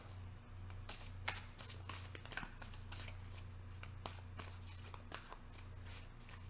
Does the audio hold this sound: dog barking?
no